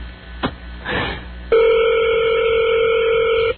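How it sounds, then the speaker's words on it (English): A landline phone rings at a Hardee's restaurant in Stafford, VA, with an old wooden-phone style bell, heard over a phone line as a loud, steady ring that holds for about two seconds after brief line noise. "Listen to that ring. It's like an old wooden phone in the middle of Hardee's."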